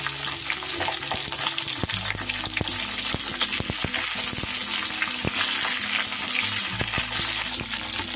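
Eggplant and beans fry in a pan for a bottle gourd leaf dish, with a loud, busy sizzle and clattering stirring.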